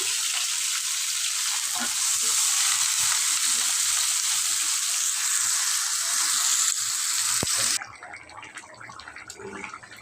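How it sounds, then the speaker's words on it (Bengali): Chopped garlic drops into hot oil in a home kitchen pan and sets off a loud, close, hissing sizzle that holds steady, then abruptly quiets to a softer crackle near the end. "তেলটা গরম হয়ে গেছে, দিয়ে দিলাম রসুন কুচি"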